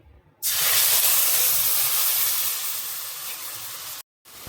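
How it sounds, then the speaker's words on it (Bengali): Poppy seeds dropped into hot oil in a wok set off a sudden loud hiss that starts abruptly, holds steady and slowly fades before cutting off. "পোস্ত করার জন্য আমার কড়াইয়ে তেল দিয়ে দিয়েছি। তেল গরম হয়ে গেছে, এই যে পোস্ত আমি দিয়ে দিচ্ছি।"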